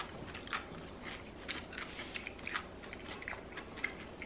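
Crisp bites of home-made eggplant tempura crunch close to the mic, a series of sharp, irregular crackles over a faint background.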